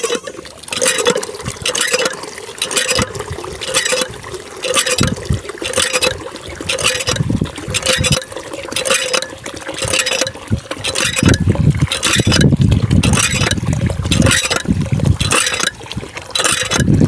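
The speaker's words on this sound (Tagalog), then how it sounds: "Meron kayang tubig dito sa gripo ng aking sister." Water runs from a faucet to fill drinking water for goats, a close, loud trickling and splashing with a pulsing, uneven rhythm that continues throughout.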